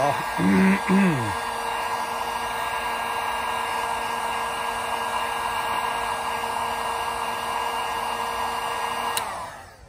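A heater blows hot air onto a custom action figure head, a loud steady close whoosh that starts after a brief voice and runs on evenly before cutting off near the end.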